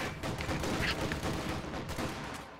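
Rapid machine-gun bursts and scattered rifle shots fill a Company of Heroes 2 battle between US and Soviet forces and German armor, steady and fairly loud with no voices over the crackling exchange.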